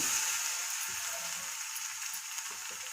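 Garlic frying in a hot pan for homemade Odia kanji, a steady bright sizzle with soft crackles, close and alone without any talk.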